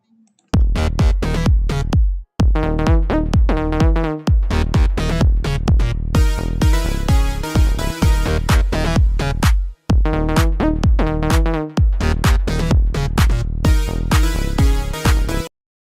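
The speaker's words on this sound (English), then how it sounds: "I feel like I should play a demo I made in Suno then" An AI-generated electronic music demo made in Suno plays alone, a dense full-band track with a steady pulsing beat and layered tones running continuously for about fifteen seconds before stopping.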